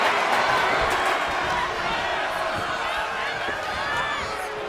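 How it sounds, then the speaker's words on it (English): A wrestling crowd cheers at a CPWL event, a loud, sustained roar of voices that stays steady throughout, with a commentator's voice partly mixed in. "The crowd is fired up."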